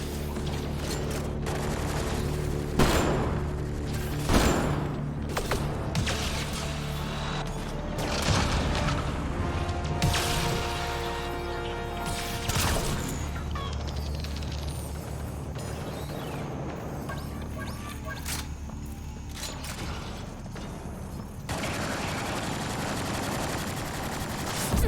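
Gunfire in a sci-fi shooter aimed at Kett enemies: sharp, loud shots and short bursts of automatic fire at irregular intervals, with booming impacts and a low mechanical hum underneath.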